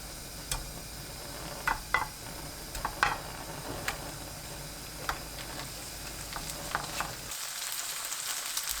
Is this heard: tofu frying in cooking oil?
yes